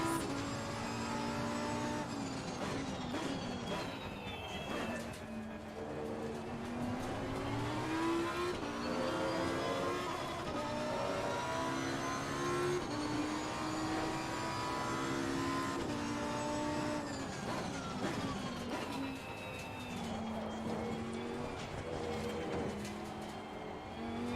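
Lamborghini Super Trofeo race car engines in a sim racing game at Zolder, a loud continuous roar with rising and falling revs through gear changes, several cars running together, with no talk.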